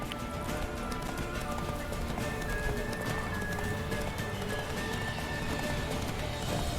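Roach, a horse in the video game The Witcher 3, galloping with a dense, fast run of hoofbeats under a steady wash of game ambience, continuous and fairly loud, with no speech over it.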